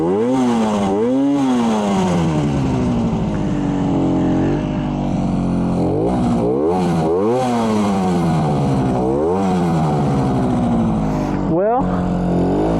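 A 1967 Yamaha YR1 motorcycle engine warms up with the choke on, a loud, close, continuous buzzing run whose revs repeatedly swell and drop back throughout.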